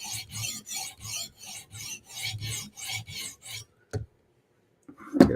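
Edge of a custom-made knife drawn repeatedly across a sharpening stone: about ten even, rhythmic rasping strokes, fairly close, followed by a pause and a couple of faint clicks.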